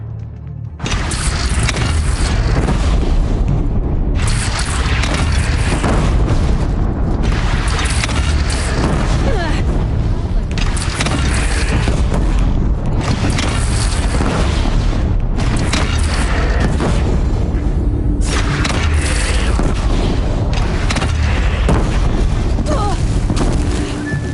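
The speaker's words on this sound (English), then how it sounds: "They only have one cannon!" Heavy cannon fire in the video game Horizon Zero Dawn, with repeated loud booms over a dense, continuous battle din and rumbling low end, loud throughout with no clear gaps.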